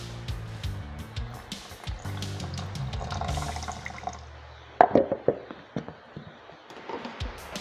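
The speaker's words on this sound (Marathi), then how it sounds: "आपल्याला अजून याच्यामध्ये पाणी घालावं लागणार आहे" Water poured into ghevar batter in a mixer, a trickling, splashing pour with soft drips; a short louder splash near the middle, then intermittent drips trailing off, with faint background hum early on.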